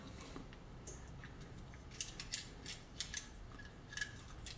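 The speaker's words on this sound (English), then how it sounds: "So we're going to go ahead and put in the Remington case trimmer" A Remington case trimmer cuts .223 Remington brass cases, giving faint, scattered snipping clicks and light metallic scrapes over quiet background hiss.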